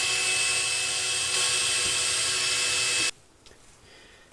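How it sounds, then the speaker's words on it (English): A power drill spins Linteater dryer vent cleaning rods inside a dryer vent, giving a loud, steady high-pitched whine for about three seconds that cuts off abruptly, followed by faint rattling and scraping. "Just kind of use that momentum and twisting on the drill."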